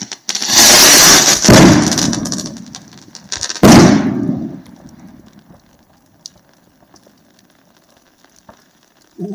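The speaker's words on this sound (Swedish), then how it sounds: "Fantastiska raketer, fantastiska salutraketer." Loud bursts of Funke Gigant salute rockets with silver crackling tails crackle and boom close by, two heavy blasts in quick succession, then fading pops and faint crackle.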